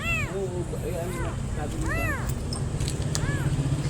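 A small kitten meows repeatedly in short, thin, rising-and-falling cries, about five calls spaced across the stretch, close and fairly loud, with people talking faintly in the background.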